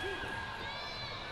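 A pro wrestling crowd at a live event roars and cheers in a dense, sustained wash of noise, with a commentator's voice running over it.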